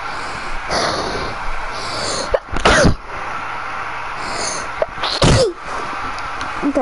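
Two sharp sneezes burst out a few seconds apart over a background of steady hum and faint noise.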